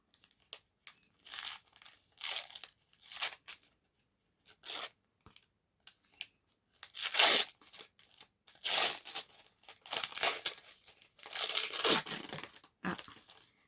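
Paper wrapping on a gift package being torn and crinkled open, irregular bursts of ripping and rustling with short pauses, close and fairly loud.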